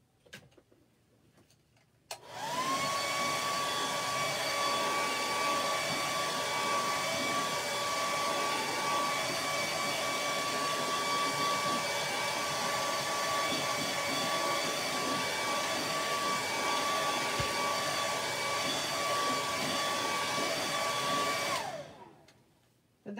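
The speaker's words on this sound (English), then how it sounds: "Let's grab my blow dryer and let's dry what we got." A hair dryer switches on and runs steadily with a loud, constant whirring hum for about twenty seconds, then shuts off; no talking.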